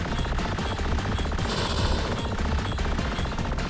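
A napalm bomb weapon fires in the shoot-'em-up game Blaze of Storm, a loud, dense run of rapid explosive bursts rattling continuously with no talk over it.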